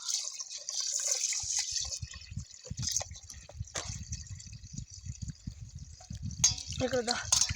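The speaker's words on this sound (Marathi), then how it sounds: "ती आता स्वच्छ पाण्याने धुवून घेते" Rice and urad dal being rinsed in water make splashing, dripping and swishing sounds. A tap-like hiss runs above a dense run of wet hand-stirring clatter, close and moderately loud, with no voices.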